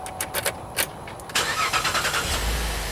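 A GM SUV such as a Traverse, Acadia or Enclave, started with a newly programmed ignition key, cranks over after a few clicks and catches, settling into a steady close idle.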